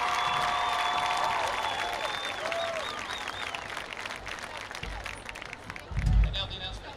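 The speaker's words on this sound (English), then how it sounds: "Ladies and gentlemen, a final round of applause for our homecoming court." A stadium crowd at a high school football game applauds the homecoming court, a steady wash of clapping and cheering with crowd chatter and distant whistles mixed in.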